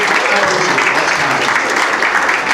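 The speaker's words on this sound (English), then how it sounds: "That was polite guy applause here in the front row." Polite clapping from the front row of a comedy show audience, a brief, close, even burst of hands that stays level from start to finish with no voices over it.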